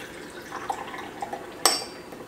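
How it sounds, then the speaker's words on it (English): Hot water trickles quietly into a porcelain gaiwan, a faint liquid pour with a few small clinks and one sharp ceramic tap near the end, heard up close with no talking. "You want to just pour the water up to just where the flare starts."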